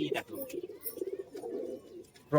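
A female giribaz pigeon gives soft, low, bubbling coos in short rolling phrases close by, with a faint voice and small handling noises in the background.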